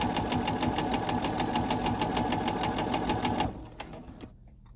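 A sewing machine stitches head scarf fabric in a fast, steady, close-up mechanical rattle that stops abruptly near the end, leaving a brief quiet tail.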